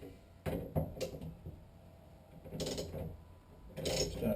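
Steering wheel being tightened down onto the column of a VW Bus under restoration, giving a few short clunky mechanical bursts with gaps of quiet between them, close by.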